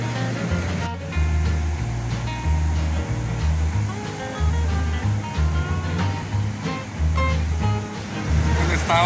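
Ocean waves wash continuously onto a beach in El Salvador during strong tides, a loud, broad roaring surf with rolling swells and no speech.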